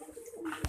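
A farmed bird, likely a dove or pigeon, gives a short, soft coo, close and brief, in a farm setting.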